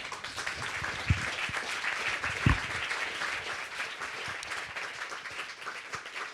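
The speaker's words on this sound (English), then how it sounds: "We're going to applaud you again." A conference audience at an AI safety discussion event breaks into sustained applause, a dense, steady wash of many hands clapping at moderate distance, with a couple of sharper thumps along the way and no talking.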